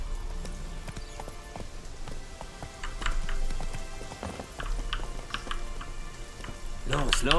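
Horse hooves clip-clop at a steady pace in The Witcher 3: Wild Hunt, moderately close, with a rain-like patter beneath and a brief tonal game sound at the end.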